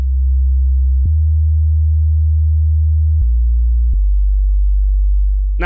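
A sub bass chord progression played one octave up, pure sustained low tones in four long notes that shift pitch with clicks at each change, loud and steady, with a brief burst of sound at the very end.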